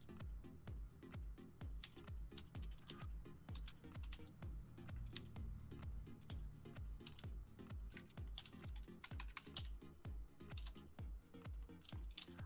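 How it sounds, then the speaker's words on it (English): Emphatic typing on a computer keyboard, a fast, steady stream of sharp key clicks and clacks, heard faintly at a distance with no talk over it. "I hear him just emphatically typing over there."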